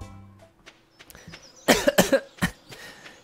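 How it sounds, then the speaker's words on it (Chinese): A character in the video game Stardew Valley coughs, a short cluster of three or four harsh bursts in quick succession, fairly close and clear against a quiet background. "一直咳嗽，好不舒服哦。"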